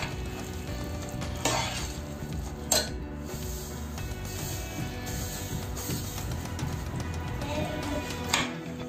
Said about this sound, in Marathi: थोडं थोडं घालायचं ह्या पद्धतीने आणि परत हलवायचं